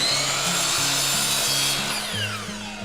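A chop saw trims the end of a wooden board, a loud, sustained whining cut with a pulsing low motor drone throughout.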